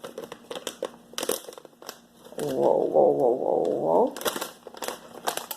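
Crinkly plastic dry milk package being handled and opened with scissors while making bread, a dense crackling burst of about a second and a half in the middle, with brief talk and kitchen clatter around it.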